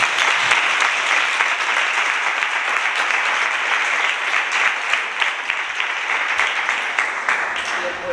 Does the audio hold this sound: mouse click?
no